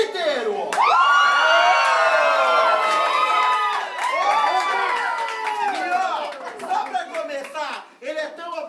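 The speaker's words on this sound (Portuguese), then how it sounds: "O pessoal tem que gritar muito." A birthday party crowd of adults and children at a themed wig party with a drag queen host shouts, whoops and cheers loudly and continuously, the noise peaking early then breaking into scattered yells and laughter.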